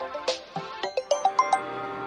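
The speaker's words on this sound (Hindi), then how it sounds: "बीच बीच में ये फोन आते रहते हैं।" A phone rings in a quiet indoor scene from a Hindi crime thriller, a short series of bright electronic chime tones rising and stepping in quick succession, fairly close and alone without talk.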